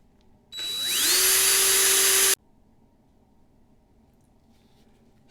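A power drill spins the axle of a Matchbox Foden sugar container toy truck during restoration, with a sharp rising whine that holds steady for about two seconds and then cuts off.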